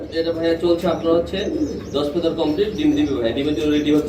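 Pen of pigeons for sale, including a female, cooing steadily close by, with someone talking over the birds the whole time.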